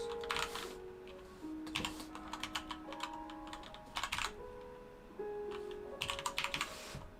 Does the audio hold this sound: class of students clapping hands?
no